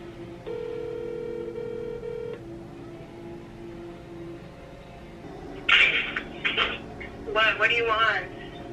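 A phone call ringing: a steady electronic ring tone sounds for about two seconds, then a person starts talking loudly in short bursts.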